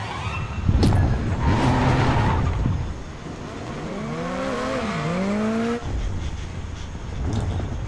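Racing cars from the Dirt 5 video game roar past at close range, with engines revving, pitch sweeping up and down, and tyres squealing, all loud and busy with no talk.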